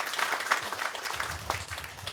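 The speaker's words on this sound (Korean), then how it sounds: "두 분의 박수 한번 쳐주셔서" Brief clapping from a crowd of village residents at an outdoor provincial field meeting in Uiseong County, with low voices murmuring underneath for about two seconds.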